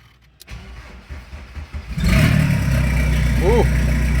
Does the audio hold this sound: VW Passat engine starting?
yes